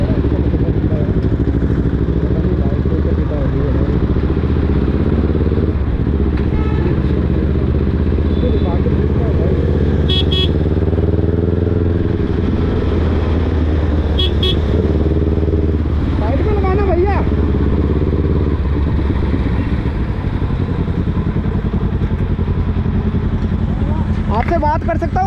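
A motorcycle engine runs steadily throughout, a loud, continuous mid-pitched rumble with a few clattering bursts, under people talking nearby.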